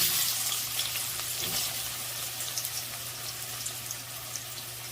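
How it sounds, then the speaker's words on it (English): Onions dropped into hot oil, frying with a bright continuous hiss and crackle close up, easing slightly over the seconds, with no one talking. "To this oil, I'm going to add onions."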